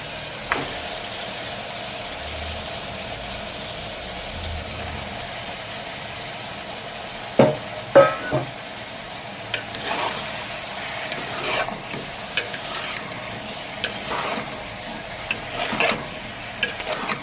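Mutton and tomato fry in a pan for a mutton kulambu, a soft steady sizzle under a low hum, with scraping spoon strokes from stirring arriving in short clusters partway through.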